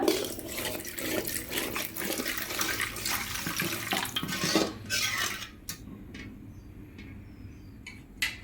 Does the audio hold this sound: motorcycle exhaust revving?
no